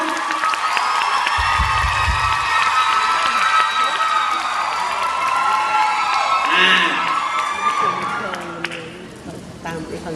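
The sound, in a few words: crowd cheering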